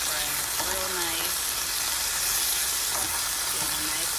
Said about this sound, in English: Got that in that pan. It's sizzling up.